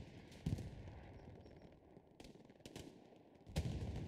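Gunfire in the WWII shooter Hell Let Loose during a competitive esports night match: several sharp, loud shots ring out irregularly, with two heavier bursts near the start and end, over a steady hum of ambient battlefield noise.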